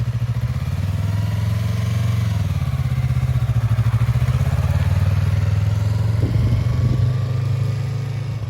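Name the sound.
motorcycle pulling away in first gear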